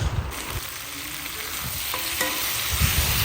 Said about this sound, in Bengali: এখানে আমার মাংসটা কষানো হচ্ছে